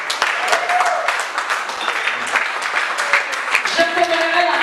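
Congregation applause in church, dense and steady, with scattered voices and a few tonal cries rising through the clapping crowd.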